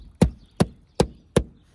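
Four evenly spaced, gentle hammer knocks on a roof sound out a rafter ahead of a solar panel install. The taps are close, sharp and clear, with nothing else heard between them.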